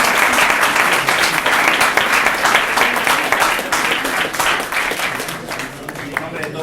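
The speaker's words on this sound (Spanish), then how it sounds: "les demos un afectuoso y cariñoso aplauso" A lecture audience gives a long, dense round of applause that holds steady and close, tapering only slightly toward the end.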